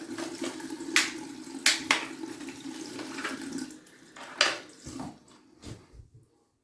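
Cold water runs and splashes nearby in uneven bursts, surging and easing several times before stopping near the end.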